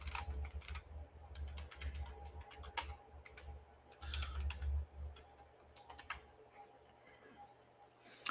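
Typing on a computer keyboard in quiet bursts of soft clicks and clacks with short pauses between them, fairly faint and close, with no one speaking.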